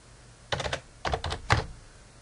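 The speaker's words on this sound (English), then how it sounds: "And then I'm going to type the same thing here." Short runs of typing on a computer keyboard, three brief bursts of quick key clicks separated by pauses, close and clear against a quiet room.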